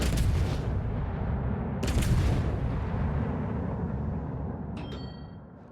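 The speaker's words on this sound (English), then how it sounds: "I thought those were my shells, the ones coming this way." Incoming cruiser shells in World of Warships hit as heavy booming blasts, two loud bursts in close succession over a rumbling battle backdrop, then a fading tail with a faint metallic ping.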